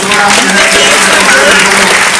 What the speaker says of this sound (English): they're going to give you a big round of applause